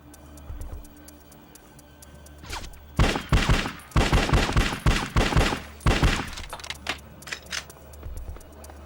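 Shots crack in rapid, loud volleys in the PS2 game Bad Boys Miami Takedown, with a few scattered shots first, then dense bursts, and a quieter low hum running underneath.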